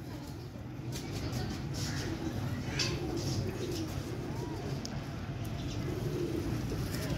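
Jeth flying pigeons at a loft coo softly and repeatedly in a low, rolling rhythm, set against steady wind and outdoor background noise.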